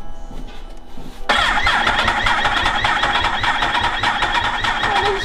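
A motorbike engine cranks and fires abruptly after a quiet moment, catching into a loud, rapid, close-up idle that keeps chugging steadily.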